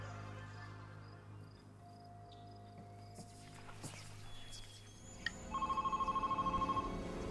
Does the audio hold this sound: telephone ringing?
yes